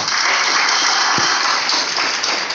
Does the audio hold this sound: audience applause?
yes